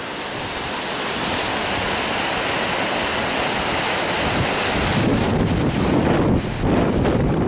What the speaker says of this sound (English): So the water, as I say, it's very high, and so is the wind very high.